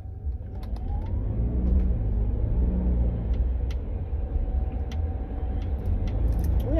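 A car drives along a road, giving a steady low rumble of engine and tyre noise heard from inside the cabin, with faint clicks and creaks on top.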